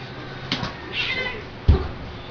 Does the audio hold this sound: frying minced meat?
no